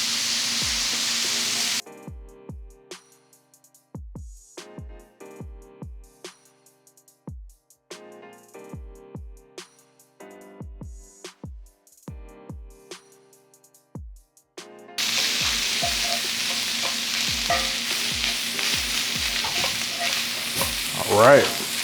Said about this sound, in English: Add a little bit more oil so we can fry them up.